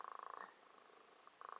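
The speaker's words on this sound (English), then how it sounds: "Cat purring." A recorded cat purr plays faintly from a relaxation app, a soft rapid pulsing that fades briefly in the middle and then returns.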